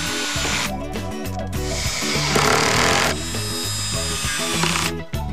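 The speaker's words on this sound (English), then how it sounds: "using power drills equipped with clutches" A clutch-equipped power drill drives screws into kitchen cabinet hardware, its motor whining in bursts with chattering clutch clicks and brief pauses between pulses, close-up and alone.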